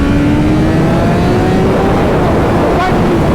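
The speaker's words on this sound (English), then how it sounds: "Look at this, full throttle." BMW M 1000 RR superbike engine pulled at full throttle from about 5,000 RPM, a loud close roar whose pitch climbs steadily through the whole stretch.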